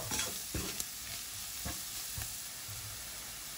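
Spiced fish cutlet mixture with tuna cooks in a pan, giving a soft sizzle broken by a few clear spoon scrapes and knocks against the pan, near but fairly quiet, with no voices.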